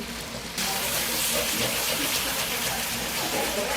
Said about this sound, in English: Put some water to cover.